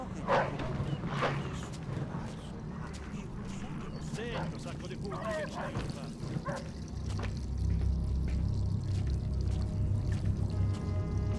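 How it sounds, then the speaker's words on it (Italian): A dog barks in the Mafia II video game, a few sharp barks early on, then yips and a trickle of liquid, all over a low ambient rumble, with a voice speaking. "quel cane può essere un problema"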